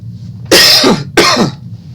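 Two harsh coughs close together, loud and near, with a brief pause between them and quiet room tone around.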